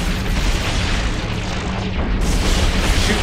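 Weapons fire and explosions in a space battle video game, a dense, loud, continuous barrage of booms and blasts with no clear gaps.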